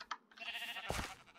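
Sheep bleating in the blocky survival game Minecraft, on a sheep farm: a couple of short synthetic bleats at moderate level, with game sounds around them and no talk.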